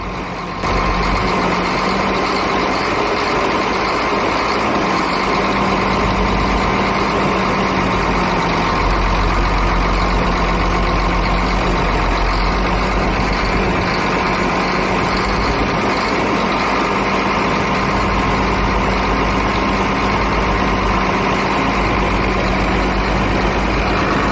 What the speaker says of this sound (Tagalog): all goods na yung andar niya, wala nang knocking at normal na yung delivery ng fuel niya